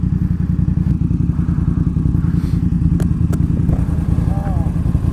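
A BMW F900R motorcycle engine droning steadily under engine braking while riding, loud and close with wind rumble and a few faint clicks and knocks over it.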